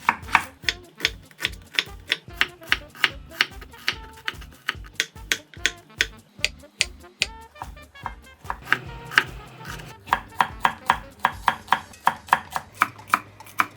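A knife chops vegetables to fingernail-sized pieces on a cutting board in quick, even, sharp strikes that run in a steady rhythm, with a short pause midway. The chopping is close and clear, and no voice is heard.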